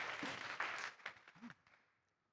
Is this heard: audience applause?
yes